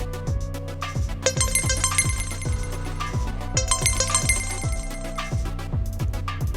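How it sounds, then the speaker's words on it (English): A ride reservation notification in the APEX driver app plays as a repeating electronic ringtone-like chime pattern with steady rhythmic pulses, loud and alone for several seconds. "Once a rider submits a reservation request, you will hear and see a notification."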